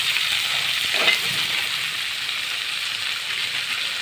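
Tomatoes frying with rock salt and turmeric in a pan for a whole-eggplant coconut milk kuzhambu: a continuous bright, hissing sizzle with one quick spoon scrape early on, close and steady throughout.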